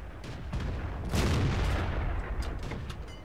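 A tank gun fires in World of Tanks, a loud heavy boom with a rumbling tail amid battle ambience, followed by fainter distant shots.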